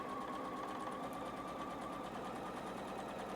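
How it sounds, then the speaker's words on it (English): A domestic sewing machine stitches down one side of quilt fabric, its motor whirring in a steady, continuous close drone with a fine rapid needle patter and no talking. "I'm going to stitch down one side"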